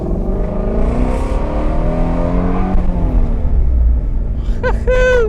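A loud, deep V8 engine of a 2019 Ford Mustang Bullitt revs and blips repeatedly up close, rumbling between throttle stabs, with a short high squeal at the end.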